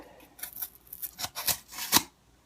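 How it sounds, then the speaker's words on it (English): A folding survival knife saws through cardboard in several short rasping cuts, close and crisp, each stroke a brief burst, before falling quiet at the end. "it honestly might be just the way I'm cutting the cardboard"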